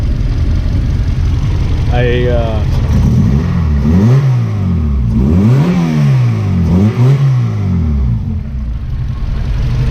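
A Honda EG hatchback with an H2B engine swap and a new throttle body idles, then revs up and down repeatedly in loud, sweeping bursts.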